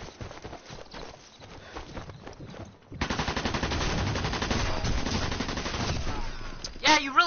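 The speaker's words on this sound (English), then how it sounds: "You put on your machine gun right now?" Rapid machine gun fire in an online shooter video game starts abruptly and rattles on steadily at close range for several seconds, preceded by quieter irregular clicks and steps.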